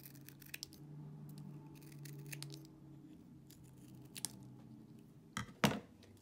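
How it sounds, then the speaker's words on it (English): Scissors snipping through rolled paper beads at close range: a soft, steady rustle broken by a few sharp cutting snips, with the loudest clip near the end. "If you've made some longer beads, you can also cut them."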